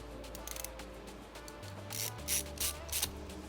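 A ratcheting screwdriver clicks in short mechanical bursts while screws are turned during a CPU fan replacement, close and fairly quiet, with a faint electrical hum underneath.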